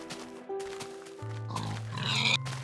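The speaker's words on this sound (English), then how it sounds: "Get that pig." A pig in the video game Minecraft gives a few short, close grunting oinks over soft tonal game music, with no talking.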